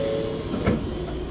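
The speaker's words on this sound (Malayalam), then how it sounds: "നമ്മൾ ബുള്ളറ്റ് ട്രെയിനകത്ത് കയറി കഴിഞ്ഞു." Interior of a Shinkansen bullet train in Japan: a steady low rumble and hum of the carriage with a brief soft clunk in the middle.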